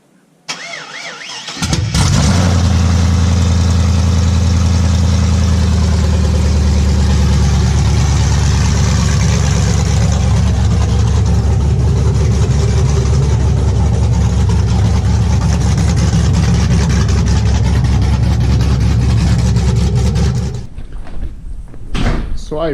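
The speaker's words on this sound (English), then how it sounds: "I guess I'll do a startup open headers" Chevrolet Silverado 1500 with a 6.0 engine and open Kooks headers fires up with a crank and bursts into a loud, raw, steady idle that rumbles close by for about twenty seconds before cutting off.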